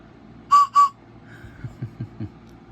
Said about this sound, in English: This is the Railroad Spike Whistle.